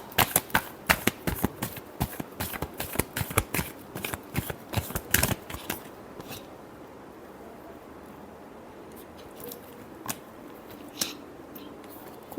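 Tarot cards being shuffled, a fast run of crisp riffling snaps close up for about six seconds, followed by quieter handling with a few isolated taps.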